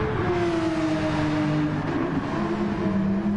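Porsche Cup race cars at Suzuka, engines droning steadily at moderate distance with a sustained tonal whine that slowly shifts pitch as the cars run on track.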